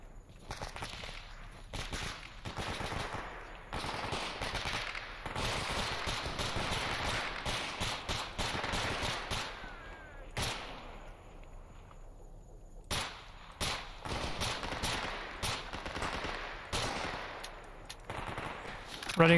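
Bursts of automatic machine gun fire from a STALKER video game, dense and loud rattling volleys repeating through most of the stretch with a short lull in the middle before the firing resumes.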